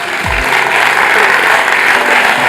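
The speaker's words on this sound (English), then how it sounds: "Huge round of applause for these two, hey?" Loud, continuous applause from a real estate conference audience for two presenters, with a brief low thump near the start.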